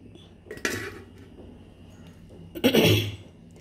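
A dosa griddle and other cookware being handled in a home kitchen, two clattering metal bursts, one brief and one louder and longer, separated by quiet.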